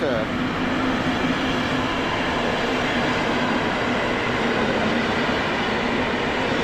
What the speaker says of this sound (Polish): w końcu wjeżdża i mamy kolejną starą lokomotywę